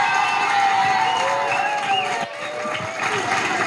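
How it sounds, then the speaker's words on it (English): A dense wash of audience applause and cheering fills a hall after bonus speeches at an event, loud and continuous, with shouts and whistle-like tones riding on top and a brief dip near the end. "Yeah, big applause."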